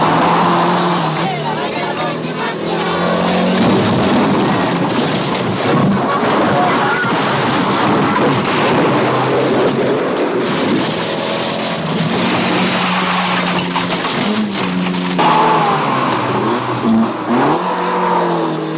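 Trophée Andros ice-racing car engine drones and revs throughout at close range, with loud wind buffeting over it and people talking in the background.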